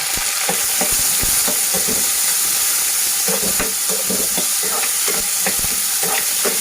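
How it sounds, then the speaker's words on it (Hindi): Chopped onions frying slowly over a low flame in a pan after tofu was cooked in the oil, a loud continuous crackling sizzle with frequent stirring scrapes and clicks, no talking. "और हम इस प्याज को स्लो फ्लेम पे फ्राई करेंगे।"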